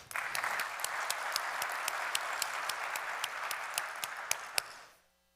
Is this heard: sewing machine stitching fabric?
no